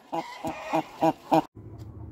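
A setting hen clucks from her nesting box in a series of five short, evenly spaced vocal bursts close by, then falls quiet apart from a low background hum.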